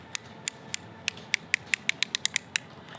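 The depth knob on a DeWalt cordless planer is turned through about fourteen sharp, detented clicks. They come close and clear, in an irregular rhythm that quickens toward the end, over a quiet background.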